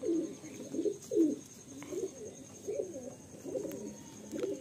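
Kalasabuj pigeons in a loft in Garia, Kolkata, coo in a soft, steady rhythm, repeated throaty calls rolling one after another at a modest distance.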